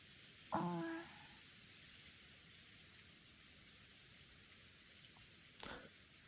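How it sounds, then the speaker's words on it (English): Steady rain falls throughout in a rainy scene from the visual novel Umineko When They Cry, a soft continuous hiss with a brief sharper sound near the start and another near the end. "No sound but that of the falling rain filled the room."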